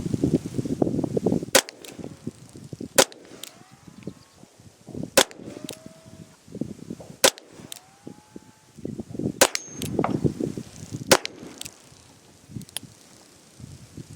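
Sharp gunshots from a Ruger LCRx .22LR revolver firing CCI Stinger rounds, about eight cracks spaced irregularly over the span. Each is loud and close, with a faint rustling background between them and no talk.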